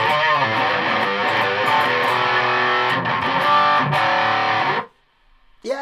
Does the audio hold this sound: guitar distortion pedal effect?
yes